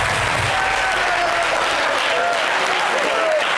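An audience on a lively French-language variety show applauds steadily for the whole stretch, a dense continuous wash of clapping with a faint tonal whistle riding over it.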